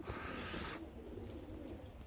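Budapest pigeons coo softly in the rain, low murmuring calls that come and go under a steady hiss which drops away after the first moment.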